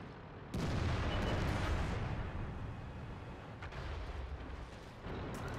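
Artillery fire in a video game battle: a heavy, rumbling barrage bursts in after half a second and rolls on for several seconds, fading slightly, then swells again near the end, loud and without talk.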